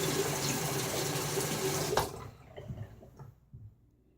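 Tap water gushes steadily into a sink for a rinse during a shave with a Gillette Sheraton razor, then cuts off halfway, leaving faint drips and splashes, close and without talk.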